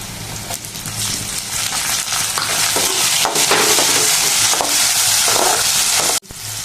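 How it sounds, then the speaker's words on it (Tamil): Chopped onions and tomato sizzle loudly in a pan while being stirred, a dense, steady frying hiss with scraping stir strokes, close up, ending with a brief dip near the end, and no voices. "வெங்காயம் நல்லா வதங்கிச்சுங்க தக்காளி போட்டுக்கலாம்"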